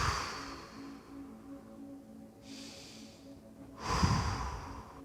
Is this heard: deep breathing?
yes